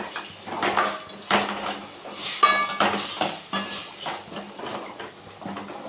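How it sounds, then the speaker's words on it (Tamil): Tomato and onion with salt are stirred in a pan for curry leaf rice, with a soft sizzle beneath continual metallic scraping and clinks of a spoon against the pan, close and steady, no talk. "உப்பு போட்டு கிண்டிக்கலாம்"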